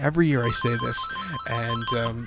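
A telephone rings steadily in the background while someone talks over it, the ring holding a constant high tone beneath his voice.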